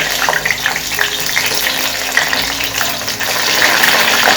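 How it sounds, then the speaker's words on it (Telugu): Stuffed brinjals sizzle and crackle as they fry in hot oil, a loud, steady hiss with dense popping that runs unbroken throughout. "ఇప్పుడు ఈ వంకాయలను ఫ్రై చేసుకుందాము. చిటాపట చిటాపట బాగుంది కదా సౌండ్."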